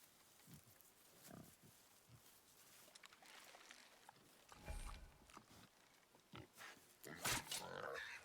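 A wild boar in God of War gives faint, low grunts and snorts in short separate bursts against a quiet background, with a couple of sharper noises near the end.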